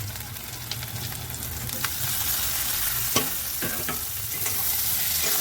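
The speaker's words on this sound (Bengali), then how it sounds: "আদা রসুনের কাঁচা গন্ধটা কেটে গেছে, এবার দিয়ে দেব টমেটো কুচি।" Chopped tomato sizzles in a pan with ginger garlic paste while a spoon stirs it, scraping and clinking now and then against a steady close frying hiss.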